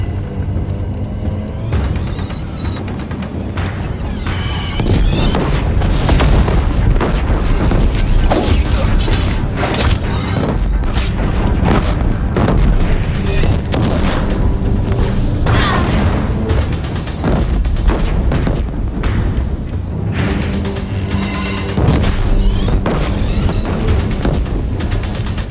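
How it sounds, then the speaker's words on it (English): Deathbringer machines fire in Horizon Zero Dawn, with continuous loud booms, crashes and heavy mechanical thuds forming a dense, relentless barrage throughout. "If the Deathbringers keep firing,"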